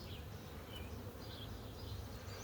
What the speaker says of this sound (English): there were quite a few bees on this outside frame